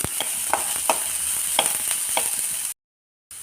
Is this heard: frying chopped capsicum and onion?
yes